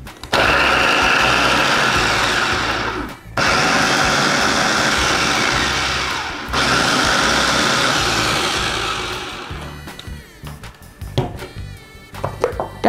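A Mitochiba electric chopper grinds spices for egg opor, its motor whirring loud and steady in two long bursts with brief pauses, then winding down into a few scattered clicks and knocks.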